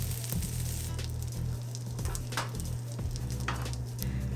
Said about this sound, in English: Drop a tiny knob of butter around the edges of your omelette to loosen it up.